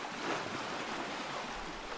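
Ocean waves wash onto a beach in a broad, steady rush of surf noise with a slight swell near the start.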